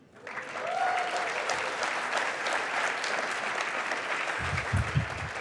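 An audience claps at a comedy talk on censorship and satire, a dense, sustained round of applause that swells quickly and holds steady for several seconds, with a few louder claps and murmurs near the end.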